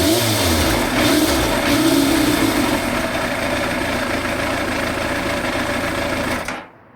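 A Yamaha FZR1000 motorcycle engine idles off choke after a full carburettor rebuild, a steady, loud, even ticking-over drone close by that cuts off abruptly near the end, with no voices.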